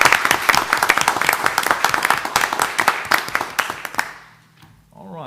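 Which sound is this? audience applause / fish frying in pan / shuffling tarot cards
audience applause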